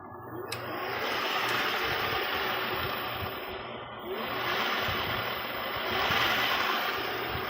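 A Xiaomi m365 electric scooter, revived from a dead battery, has its motor spun up on the throttle: a steady whirring hum runs close and loud, dips briefly midway, then surges back up.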